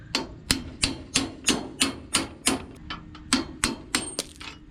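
A hammer knocks a pin out of the rigging on a Hallberg Rassy 54 sailboat, delivering a dozen sharp metallic strikes in a steady, even rhythm, close and clear with no talking.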